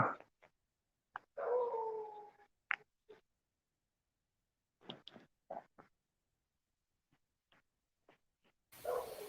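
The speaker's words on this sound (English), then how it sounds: "Sounds like the dog wants in." A neighbor's dog outside howls and whimpers in scattered, fairly distant bursts with quiet gaps between, and no talking.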